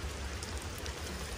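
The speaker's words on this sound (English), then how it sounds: "It's been raining all morning long." Steady rain falling on a riverbank during a morning of coho salmon fishing, a soft, even patter and hiss heard at low volume with no talking.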